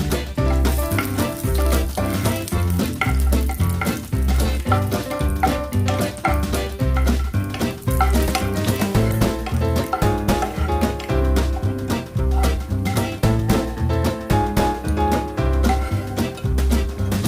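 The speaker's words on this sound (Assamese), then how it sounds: "অলপ সময় ভাজি ল'ম।" Peanuts fry in hot refined oil with a steady, close sizzle that runs the whole time, over a rhythmic background music bed.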